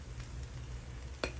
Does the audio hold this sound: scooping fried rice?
yes